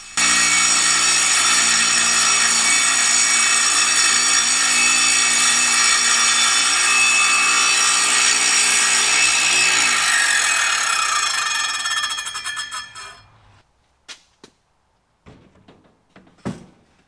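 A circular saw cuts through half-inch plywood guided along a clamped 2x4 on sawhorses inside a metal workshop, giving a long, loud, steady whine that fades as the blade winds down, followed by a few scattered knocks.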